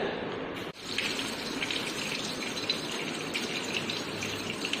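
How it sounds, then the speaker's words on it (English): Tap water runs steadily over a conical flask to cool it in a chemistry lab, a constant close gush with no talk. "Cool it under tap water like this."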